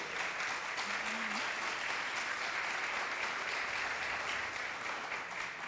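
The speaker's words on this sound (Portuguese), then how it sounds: "Vamos aplaudir Jesus por isso?" A church congregation at a prayer service claps in a broad, sustained wash of applause, steady and fairly distant, with a faint brief tone early on and no clear speech.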